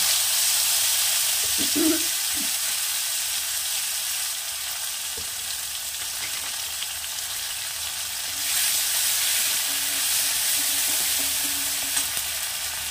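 Ground cumin paste sizzles in a hot pan for a Bengali amodi fish curry, a steady broadband hiss close by with brief spatters and a faint scrape of stirring.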